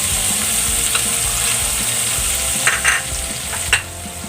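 Chopped tomato sizzling in a hot frying pan for a veggie omelette, a loud steady crackle with a few sharper clinks and stirring bumps near the end.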